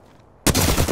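A burst of rapid automatic gunfire from Apex Legends erupts suddenly after a quiet moment, loud and close, sustained to the end with no voices.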